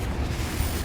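A Confringo fire spell blast in Hogwarts Legacy, cast in combat: a short, loud, roaring burst of fiery noise that fills the whole moment, with no voices over it.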